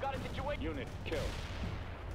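Battlefield combat in World in Conflict, with distant gunfire and artillery rumbling steadily under radio-style voice chatter and a tonal game alert throughout.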